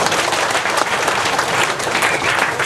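A large audience at a Mocopat Syafaat gathering bursts into loud, dense applause, a continuous roar of clapping with scattered sharper hand claps near the front.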